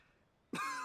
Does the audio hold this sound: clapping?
no